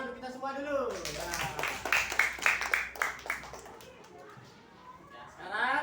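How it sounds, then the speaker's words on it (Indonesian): A classroom of children clapping together in a quick burst of many overlapping claps, with young voices and an adult teacher talking around it. "Tepuk tangan untuk kita semua dulu"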